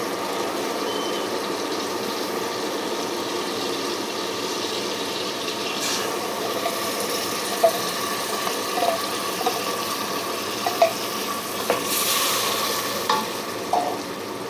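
Blended tomato hits a pan of fish curry, boal maas cooked with sheem bisi, giving a steady close sizzle and bubbling frying sound throughout, with a few light clinks and stirring taps.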